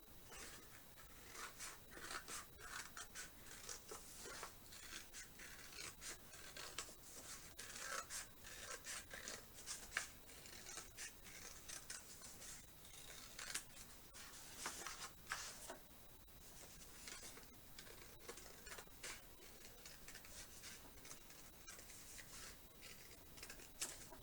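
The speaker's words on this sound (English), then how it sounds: "I'm just cutting along the line that I just drew on the paper." Scissors snip through watercolor-painted paper along a drawn spiral line, a steady run of close, crisp cutting and rustling strokes that continues without pause.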